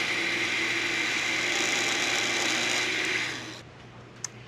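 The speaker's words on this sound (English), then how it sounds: "just put the lid on the blender and mix this together" A blender mixing lemon juice and egg yolk for hollandaise whirs steadily at high speed, then winds down and stops, leaving near silence with a small click at the end.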